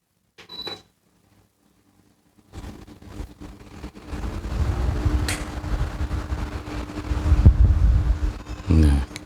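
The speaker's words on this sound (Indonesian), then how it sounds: "Coba ini saya nyalakan kipas." An electric desk fan starts up and runs with a steady, close whooshing drone near the microphone, rising in level partway through.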